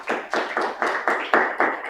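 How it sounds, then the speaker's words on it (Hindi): A group of people gives loud applause, broken into about seven strong rhythmic bursts of clapping that come close together in a classroom setting, with no talking. "पक्की बात, एक बार जोरदार ताली हो जाए।"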